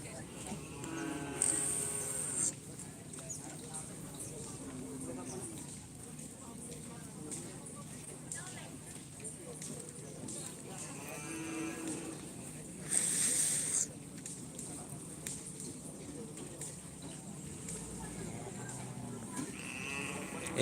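Cattle low and bleat amid a noisy outdoor bull race crowd in Aseman, with a shrill whistle blowing twice and people talking and shouting throughout.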